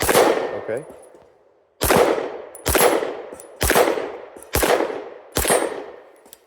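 Six sharp gunshots ring out at steady intervals of roughly a second, each followed by a decaying echo, fired at small targets on a range; faint talk precedes the first shot.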